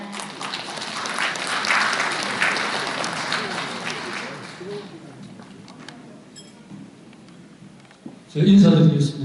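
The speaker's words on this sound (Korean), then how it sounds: "박수로 모시겠습니다" An audience at a New Year's gathering of a young Confucian scholars' association in Gyeongbuk welcomes a lecturer with clapping that fades out over several seconds, followed by quieter room noise and a short loud burst near the end.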